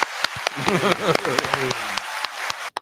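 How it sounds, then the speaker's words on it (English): A small audience claps briefly as a shout-out to Coco on a talk show, scattered hand claps over voices and cheering, near and moderately loud, ending abruptly. "Clap it up one time."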